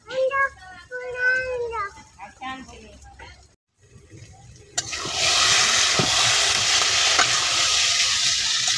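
After a few seconds of speech, taro leaves (kochu shak) hiss in a pan as they are stir-fried, a steady, close sizzle that continues to the end.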